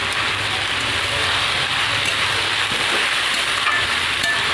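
Fish dropped into a frying pan with cooked ol (elephant foot yam) greens hisses in a steady, even sizzle that holds at constant loudness throughout, close and alone.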